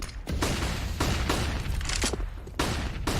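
Flashbang grenades going off in Counter-Strike on Dust2, several sharp, loud bursts in rapid succession with bright ringing tails between them.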